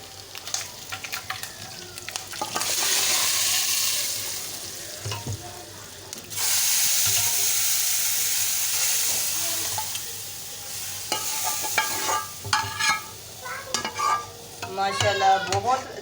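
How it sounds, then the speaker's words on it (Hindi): A tadka of spices hits hot oil in a pan for a Pakistani-style rice dish, giving two long bursts of loud hissing sizzle, then stirring clinks and scrapes near the end. "अब ये ब्राउन हो चुका है, अब हम तड़का लगाएंगे।"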